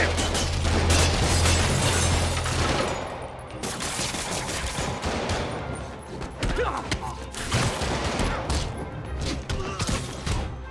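Gunfire from criminals in Marvel's Spider-Man Remastered on PC, dense repeated shots and bursts over a loud, busy game mix with music, continuing for several seconds.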